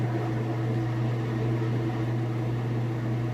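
A Kenmore washing machine drum spins back up to speed, giving a steady, loud motor hum with a constant low drone and a whirring wash of broadband noise throughout.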